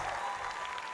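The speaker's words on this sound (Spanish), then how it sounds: "¡Así es! ¡Aplausos!" A television studio audience applauds, a dense burst of clapping that fills the whole brief moment at moderate loudness.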